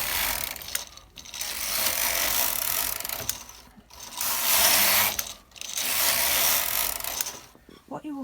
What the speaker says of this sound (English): Until the carriage is over.